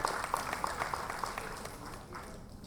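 Audience applause at a Women's Day award ceremony for a prize recipient, moderately distant and steady, tapering off toward the end with faint voices beneath.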